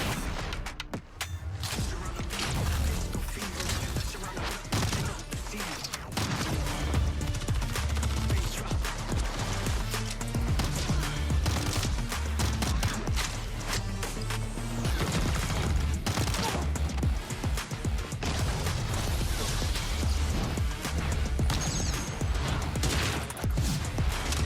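Dense, relentless bursts of rapid gunfire and crashing impacts from the USS 9 mythic weapon animation in a video game, loud and continuous with a heavy low end and no pauses.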